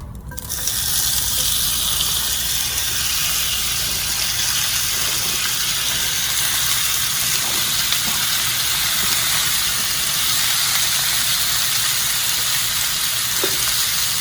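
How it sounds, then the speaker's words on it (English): Zucchini sautés in oil in a hot pan, giving a loud, steady sizzle and hiss that runs unbroken from start to finish with no voices. "And we're gonna saute the zucchini."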